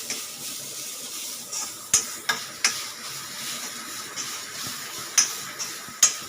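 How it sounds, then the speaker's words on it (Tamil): Half a cup of mixer-ground coconut sautéed in a pan, a soft steady sizzle broken by several sharp spoon scrapes and taps against the pan at irregular intervals, no talk. "ஒரு அரை கப்பு தேங்காய் அரை முடி எடுத்து மிக்சியில் ரெண்டு ஓட்டு ஓட்டி வச்சுருக்கேங்க வதக்கலாம்"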